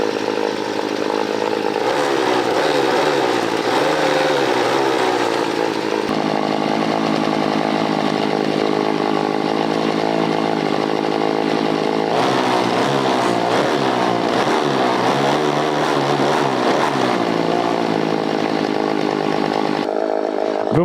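A small petrol engine on a motor cultivator idles and revs, a loud, continuous buzzing drone close by whose pitch rises and falls in steps, with no voices.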